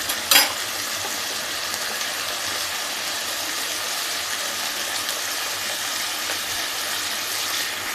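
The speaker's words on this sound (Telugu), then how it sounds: "మంచిగా నూనెలో ఇలా వేయించుకోవాలి" Cluster beans frying in hot oil with ginger-garlic paste, a steady close sizzle running throughout after a brief clink at the start, no voices.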